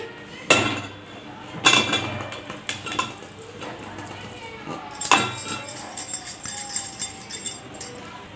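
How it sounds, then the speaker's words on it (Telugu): Indian gooseberries stirred into cooled oil for a pickle, with sharp metal clinks and scraping of a spoon against a pot, several louder knocks among lighter clatter, while someone talks over it. "మొత్తం చల్లగా అయినాక ఈ ఉసిరికాయలు ఇది మొత్తం ఇందులో వేసి కలిపేసుకోండి"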